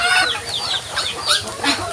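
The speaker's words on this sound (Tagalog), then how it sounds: "So ito yung kapalit ng ating manok." A chicken clucks close by in a quick series of short, rising calls, loud and clear with no talking.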